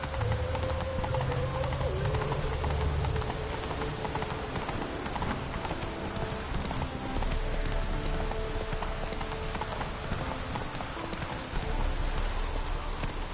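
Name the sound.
horse hooves galloping in video game The Witcher 3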